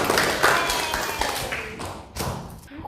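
A small group claps unevenly at close range in a classroom setting, with a few sharp individual claps and taps over a short burst, some faint voices in the background.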